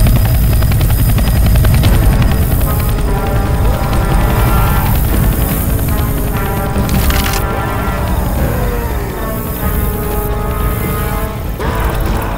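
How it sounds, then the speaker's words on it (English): A helicopter in the video game Left 4 Dead 2 thrums loudly and continuously with a chopping rotor beat, mixed with cracking game effects and no talk. "A chopper!"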